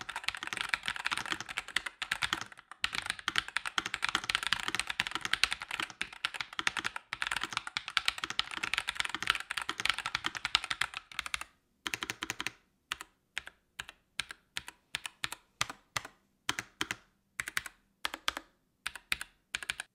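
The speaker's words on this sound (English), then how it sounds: "you're probably expecting some sort of sound test or typing test." Close typing on a NuPhy Air96 low-profile mechanical keyboard: a rapid, dense stream of clacking keys, then slower, separate keystrokes with short pauses between them.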